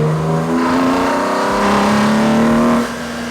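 A loud, raspy exhaust on a BMW E46 M3 with stock headers revs up and holds high, then drops back to a rumbling idle.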